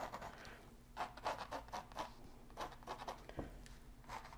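A pencil sketches connecting lines on a painting surface for a wagon wheel wreath. It makes soft, close, repeated scratchy strokes in short bursts, quiet and with no talk.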